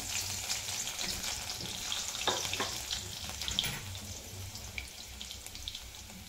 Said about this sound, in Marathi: आता हा चेचून घेतलेला लसूण त्यात टाकायचा.